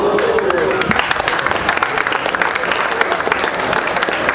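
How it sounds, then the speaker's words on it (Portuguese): Crowd applause at a hip hop rap battle circle in Rocinha, sustained loud clapping with scattered cheers and voices throughout. "obrigado pelas palmas"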